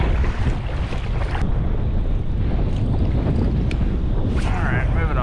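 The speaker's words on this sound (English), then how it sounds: "Can't fight the wind anymore. Wind's too strong for my anchor." Strong wind buffets the microphone on a lake during kayak fishing, a steady roaring rumble throughout with water lapping close by and no talk.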